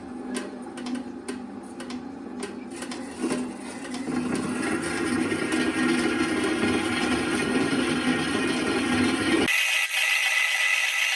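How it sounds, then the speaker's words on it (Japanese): A hand saw cuts through a Damascus steel knife blank of N690 and 440C with quick rhythmic rasping strokes at first, then a denser continuous scraping, ending in a sudden change of tone near the close. "溝が切れたらノコギリでカットしていきます。"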